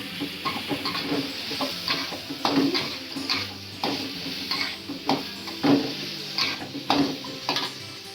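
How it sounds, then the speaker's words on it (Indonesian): Eggplant being stir-fried in a pan for a green-chili jambal fish dish, with a steady sizzle and repeated scraping, clanking stirs of a utensil against the pan, close and busy with no talk. "Kita tumis terong-terongnya ini ya. Kita aduk-aduk cuy."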